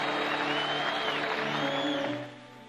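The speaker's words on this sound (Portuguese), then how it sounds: "Uma salva de palmas para a mãe do Padre Alessandro." A church audience applauds the priest's mother with a steady, dense burst of clapping lasting about two seconds, with faint tonal sound underneath, then dropping off abruptly.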